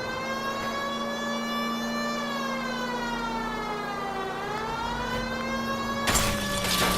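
An emergency vehicle siren wails loud and continuous with rich harmonic tones, its pitch slowly gliding down and back, ending in a sudden burst of broadband noise.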